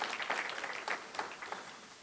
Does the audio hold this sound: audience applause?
yes